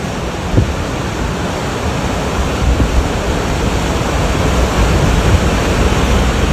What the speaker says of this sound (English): Oh, that's a nice gust right there. That one's pushing 70 feet.